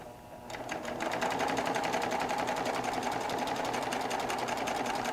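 A Baby Lock Triumph serger starts up and runs steadily at speed, a fast, even mechanical whirring and clatter sewing an elastic waistband, close and alone with no talk.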